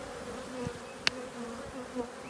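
An agitated honeybee hive hums with a close, steady buzz of many bees, with one sharp click partway through.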